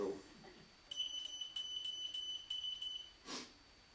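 A quiet series of short, high-pitched electronic beeps spelling SOS in Morse code rhythm, faint against a soft background hiss, ending with a brief noise.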